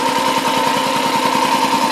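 A BMW Isetta 300 single-cylinder engine idles close by, a steady rapid thumping putter with an even, unbroken rhythm and a faint whine over it.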